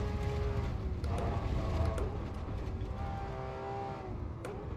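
A racing car engine in Assetto Corsa EVO drones at high revs with a clear harmonic whine that dips at each gear change, and the roar eases slightly toward the end with no talking.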